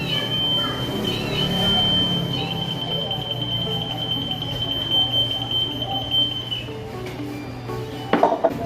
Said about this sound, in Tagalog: if we pour a glass of water, the two blades will sense the water, and then the alarm will immediately turn on